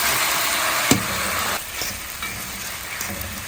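Ackee drops into a pan of saltfish cooking in Jamaica, setting off a loud, steady sizzle with a sharp clatter as it lands and stirring scrapes after, close up and without talk.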